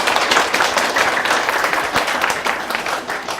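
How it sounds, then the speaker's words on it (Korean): A seminar audience applauds an introduced guest, a steady, fairly loud wash of clapping that holds evenly throughout. "박수 한번."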